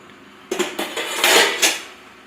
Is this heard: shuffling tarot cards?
no